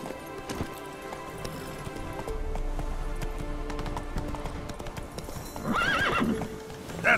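Roach, a horse in The Witcher video game, gallops with steady close hoofbeats, then gives a loud neigh near the end.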